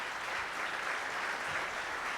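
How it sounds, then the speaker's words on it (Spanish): A congregation gives even, continuous applause to welcome newcomers at a meeting, the clapping dense and steady throughout. "Un aplauso, por favor,"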